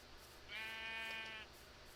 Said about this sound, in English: There's actually quite a few sheep.